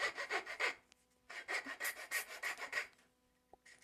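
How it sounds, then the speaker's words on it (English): A hand file shaping a wooden chair tenon during a chair restoration, heard as quiet, close rhythmic rasping strokes in two bursts separated by a short pause. "So I'm just putting a file flat on the tenon here, go all the way around."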